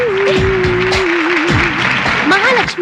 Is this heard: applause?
yes